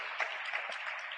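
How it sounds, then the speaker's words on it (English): A church congregation at a deliverance service claps hands in a dense, continuous patter of applause, heard alone and at moderate loudness. "Clap hand for Jesus."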